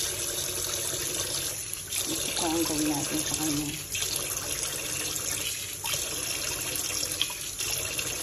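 Water poured onto a bonsai tree in a clay pot, a steady splashing trickle running through the whole stretch while a person talks over it.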